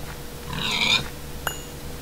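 A pig in the Minecraft video game gives a single short grunting oink, close and moderately loud, followed by a brief click against a low background hum.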